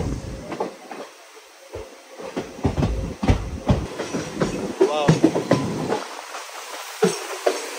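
The Goa to Tirupati Express running on rails near Dudhsagar, with rhythmic clickety-clack of wheels over rail joints, intermittent metallic knocks and a faint squeal, heard from on board.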